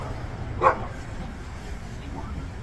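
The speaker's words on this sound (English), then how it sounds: "That dog wants a piece, dude." A dog at a roadside police encounter lets out one short, sharp bark, close by, over a low background murmur of voices and outdoor noise.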